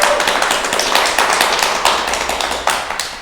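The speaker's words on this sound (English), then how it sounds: "Good, let's clap." Children at a school garden and composting presentation clap together, close and fairly loud, with uneven bursts of sharp claps that gradually taper off.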